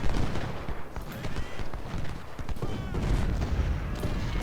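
Cannon and musket volleys crackle continuously through a Civil War battle in Ultimate General: Civil War, with 10-pounder guns dueling enemy artillery; dense, overlapping bursts of gunfire roll on without a break.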